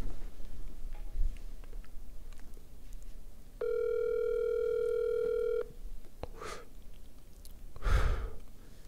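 A phone call ringing out on a telephone line, one steady ring tone of about two seconds in the middle, with soft breathing and sighs near the phone before and after it.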